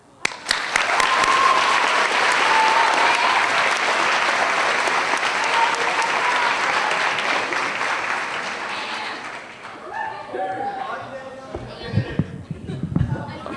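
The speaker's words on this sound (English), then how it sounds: "a round of applause for Telly and Jake for sadly leaving the school this year" Loud, dense applause from an audience at a middle school awards ceremony fills most of the clip, then thins out into scattered claps and shuffling as a voice begins speaking near the end.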